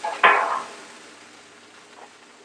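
Onions and cheesesteak meat sizzle on a Blackstone griddle, a sharp hiss flaring up as the food is flipped, then settling into a quieter steady fry with faint clinks.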